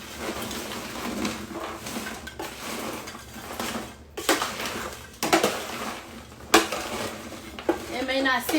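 Hot popcorn being stirred in a metal pot to melt Snickers chocolate, scraping and clattering in a busy, continuous rhythm with sharper knocks from the spoon against the pan.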